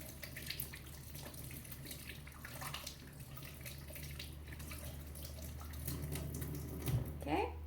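A tap runs steadily into a sink as soap is rinsed off hands, a soft continuous water hiss with a few faint splashes near the end, quiet and close, with no speech.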